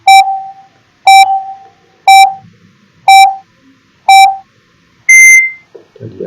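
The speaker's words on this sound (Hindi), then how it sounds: "टाइमर ऑन हो चुका है आपका" A quiz countdown timer beeps five times at steady one-second intervals, each a loud sharp tone, then ends with a final higher, longer beep; no talking.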